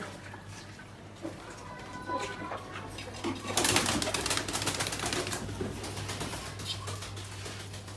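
Pigeons in a loft being let out to bathe in water, with a steady low hum and busy rustling, splashing and fluttering that swells midway; faint coos are hard to pick out from the ambient noise.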